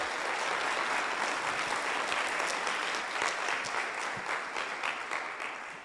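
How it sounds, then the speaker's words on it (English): A sustained round of applause from an audience at an annual meeting, steady and full throughout, with no talking. "round of applause."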